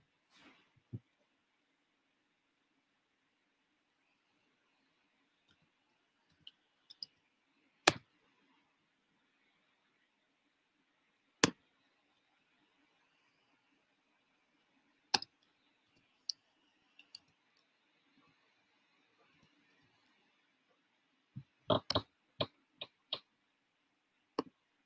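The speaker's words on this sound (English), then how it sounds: "But I'm typing." Sparse, quiet keyboard clicks come in scattered single taps and short bursts, with a cluster of quicker keystrokes near the end in an otherwise silent room.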